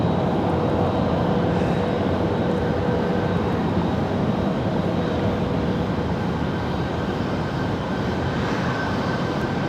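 An Embraer E175 airliner arriving at Raleigh-Durham, a steady, loud broadband engine roar with a faint whine, continuous throughout.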